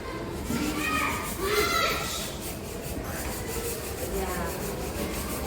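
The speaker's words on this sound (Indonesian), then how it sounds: "mengamplas kayu ya, agar kayu ini menjadi licin" Sandpaper rubbed back and forth over a piece of wood to smooth it, a steady scratchy rasping across the whole stretch, moderately close, with children and other voices murmuring in the background of a classroom demonstration.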